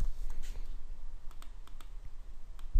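Fingers typing on a computer keyboard, a quiet scattering of light clicks in uneven rhythm over a faint background hiss.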